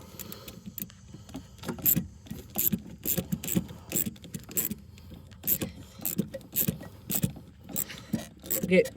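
Repeated ratcheting clicks and rasps from a socket wrench tightening a shock absorber bolt on a 2002 Jeep Grand Cherokee Laredo, close and steady in short bursts, with occasional metallic jingles.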